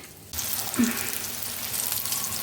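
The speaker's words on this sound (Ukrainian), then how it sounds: "І обсмажуємо сирнички з обох сторін до золотавої скориночки." Syrniki, cottage cheese pancakes with raisins and candied fruit, frying in a pan with a steady broadband sizzle that starts abruptly and continues evenly.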